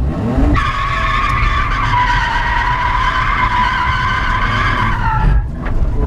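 A car drifting at a drift track, tyres skidding in one long continuous loud squeal over engine roar lasting several seconds, with no talking.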